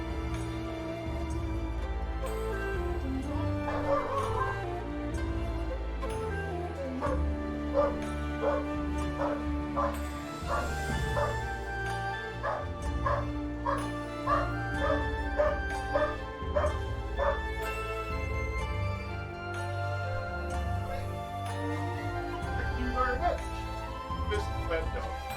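Dog barking in Final Fantasy XIV, with yips and whimpers heard over steady game music, with a voice talking along.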